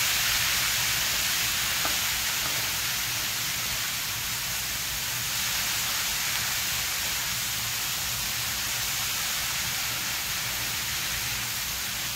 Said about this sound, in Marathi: फक्त छान परतवून घ्यायचं आपल्याला.